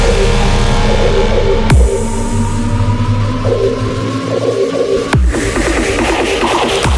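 Heavy electronic kick drums build up after the breakdown of a tearout dubstep track, thudding into a dense, loud, rumbling mix, with two sharp pitch-dropping hits standing out.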